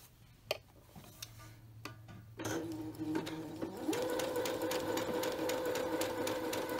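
A sewing machine stitching a buttonhole, with a few light clicks and taps before the motor starts up into a steady, fast whirring hum with rapid needle ticking, close and fairly quiet.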